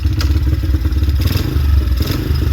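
A small engine sputters and rumbles in an irregular, low, close-up clatter as it tries to fire back up after a brief soak, without settling into a smooth idle.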